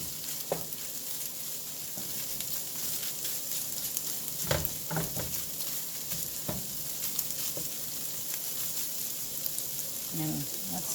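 Pieces of previously cooked chicken sizzling in a pan, a faint steady frying hiss with occasional clicks and scrapes as they are stirred around, no voices.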